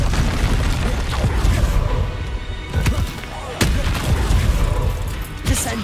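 Confringo fire-blast spell explosions in Hogwarts Legacy on hard mode, heavy booming blasts and sharp bursts repeating amid ongoing combat rumble, loud and close, with a voice speaking over it.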